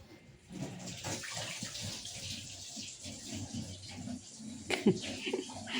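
Water runs steadily in a broad wash of noise, with some faint talk and a few brief knocks near the end.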